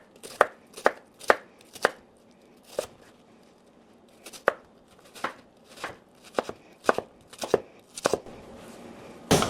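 Knife dicing an onion on a cutting board, about a dozen crisp, separate chops falling at an uneven pace, close and fairly loud with quiet gaps between strokes.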